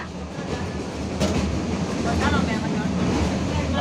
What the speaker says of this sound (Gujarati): આપણી ટ્રેન જાય છે અત્યારે સીધી વેરાવળ